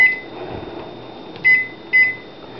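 A 1250-watt microwave oven heating a cup of water hums steadily, then gives two short, sharp beeps about half a second apart near the end, with no one talking.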